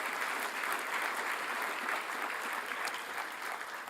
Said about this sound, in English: Our athletes, former athletes, deserve a louder round of applause.